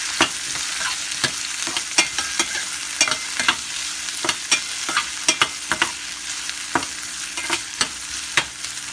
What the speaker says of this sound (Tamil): அதை போட்டு நல்லா வதக்கிடலாம்.